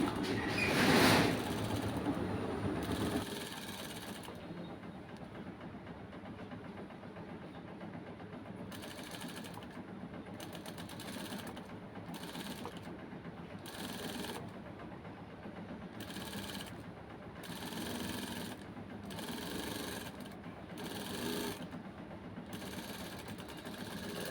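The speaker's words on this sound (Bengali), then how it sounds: "এখন অন্য হাতার আর্মহোলের চাপ সেলাই দেওয়া হচ্ছে" A sewing machine stitches the armhole seam of a shirt sleeve in a series of bursts, its rapid mechanical whirring starting and stopping with short pauses, close and fairly loud.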